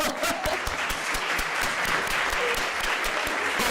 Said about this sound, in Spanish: Así es que un fuerte aplauso.